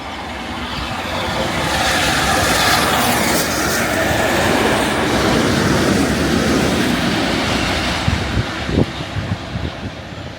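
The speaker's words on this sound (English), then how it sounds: "get Blue Peter passing through Langley Green." Steam locomotive Blue Peter passing through Langley Green station, a loud sustained rumble of wheels and carriages rolling close by, with clattering rail joints and a few sharp squeals toward the end.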